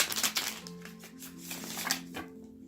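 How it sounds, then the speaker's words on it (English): Tarot cards are shuffled close by, a short burst of soft riffling and flicking papery clatter over a few seconds, quiet and with no talk. "One more shuffle."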